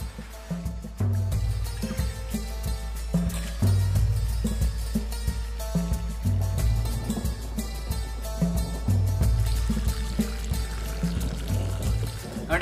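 Soaked lentils being rinsed in a kitchen make continuous pouring and sloshing water sounds, with swishing and splashing rising and falling over about twelve seconds, close and fairly loud.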